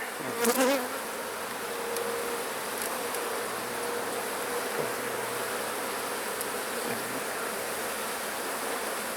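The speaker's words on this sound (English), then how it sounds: "A lot of bees in there, as you can see." Honeybees in an open hive frame box make a dense, steady hum throughout, close and continuous, with a louder buzz passing near at the start.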